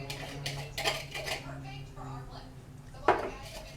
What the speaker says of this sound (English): I'm going to put the salt in this pan.